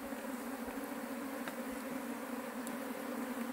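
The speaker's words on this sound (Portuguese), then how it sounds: "Então esse enxame aqui" Honeybee swarm at a hive produces a faint, continuous buzzing hum with no pauses, steady and alone without talk.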